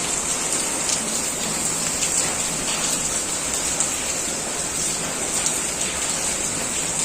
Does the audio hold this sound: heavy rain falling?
yes